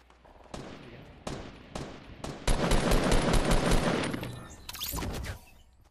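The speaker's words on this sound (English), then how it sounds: "I'm gonna freaking shoot this guy." Rapid bursts of video game gunfire in Fortnite, a few separate volleys first, then a long loud sustained barrage of overlapping shots that tapers off, followed by another short burst.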